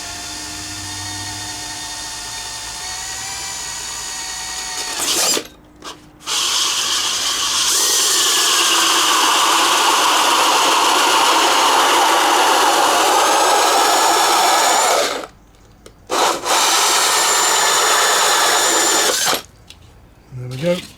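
A power drill boring through plastic on a model aircraft cowl ring whines at high speed in long sustained runs, pausing briefly twice before spinning up again, loud and close.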